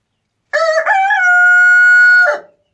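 A single rooster crows loud and close, a long drawn-out cock-a-doodle-doo lasting nearly two seconds, with nothing else around it.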